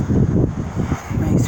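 Gusty wind buffets the microphone in Sleepy Hollow Cemetery, Concord, Massachusetts, in low, rumbling bursts that rise and fall throughout, with no other clear sounds.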